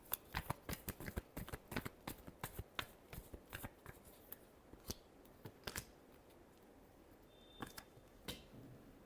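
Tarot cards are shuffled by hand close up, making rapid crisp riffling snaps in quick bursts that slow into scattered flicks and taps, soft and alone with no talking.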